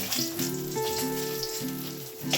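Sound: frying fish in oil

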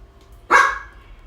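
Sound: pet dog barking

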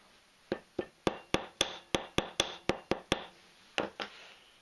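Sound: hammer tapping wire coil point on an anvil

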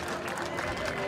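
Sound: applause

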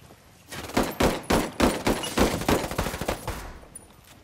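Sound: gunfire in the video game Ghost Recon Wildlands

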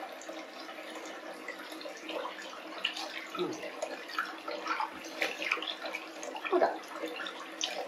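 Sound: warm bath water running over kitten

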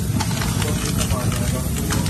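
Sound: spray hissing as it is applied to a car's wheel drum

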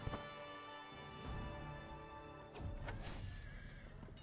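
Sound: horses galloping in a horse race, from the video game Crusader Kings III

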